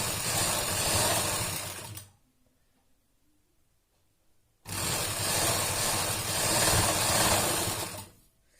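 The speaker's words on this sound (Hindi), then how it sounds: "अब इसी तरह से हम दूसरे पर भी सिलाई लगा लेंगे।" An electric sewing machine stitches bra fabric in two loud, fast whirring bursts, separated by a quiet pause of a couple of seconds.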